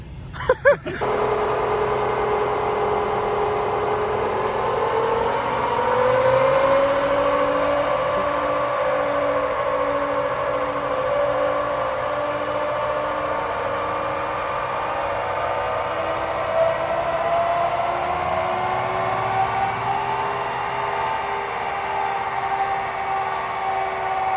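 Truck on 26-inch wheels revving hard on a dyno, a loud sustained engine drone that climbs in pitch in stages over more than twenty seconds, holding at high revs before easing near the end.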